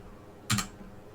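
Single computer keyboard key press during 3D modeling work, one crisp close click standing out against a quiet room hum.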